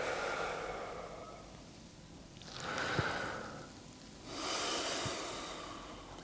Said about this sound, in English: breathing in as the hand comes up and out as it comes down